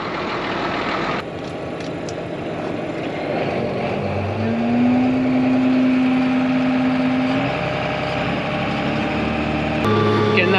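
Farm machinery runs while pumping liquid manure from a lagoon, a loud continuous engine drone with a rising pump whine partway through and some background voices.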